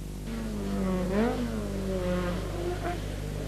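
A 1983 Circuit of Ireland rally car drives past on a slippery stage, its engine rising and falling in pitch as it approaches and goes by, heard over a steady low hum.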